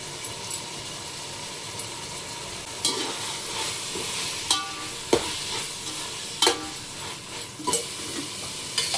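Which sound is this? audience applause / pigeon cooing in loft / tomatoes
tomatoes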